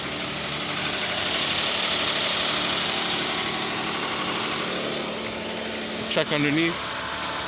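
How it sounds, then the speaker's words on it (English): A Kia Sorento with a 3.3 liter V6 idles steadily as a constant close engine hum that lasts the whole clip, with a short burst of talk near the end. "start the car, and then we'll check the dipstick to see where it is"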